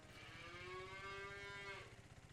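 A cow moos in the Farming Simulator 25 video game: one long, drawn-out low call with a steady tone that fades out near the end. It sounds clear and close over a faint background hum, with no talking.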